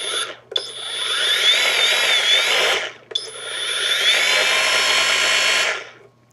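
A FLEX 24V battery-powered polisher whirs loudly at close range in two sustained runs of a few seconds each, separated by a brief stop, with a steady high-pitched motor whine and no talking.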